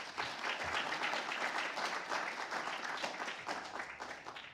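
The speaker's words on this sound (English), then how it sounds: "So we'd like everyone to give him a round of applause" Seminar audience at an annual Rotary Peace Fellow gathering breaks into sustained applause for an honoree, dense clapping from a full room holding steady for several seconds with no talking over it.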